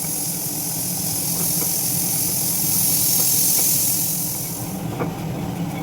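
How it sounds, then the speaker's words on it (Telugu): Ingredients fry in a hot pan with a steady, close sizzling hiss that swells slightly midway and then eases off toward the end. "చూసారా వేగిపోతుంది"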